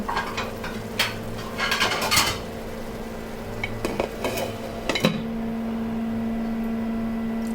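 A lid set down on a cooking pot while making a Bengali fish-head murighonto, one sharp metallic clank near the end after scattered utensil clatter, followed by a steady hum.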